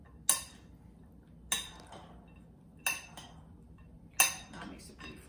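Tofu kung pao ingredients tossed in a bowl, heard as four separate sharp clinks of a utensil against the dish, spaced about a second apart over quiet background.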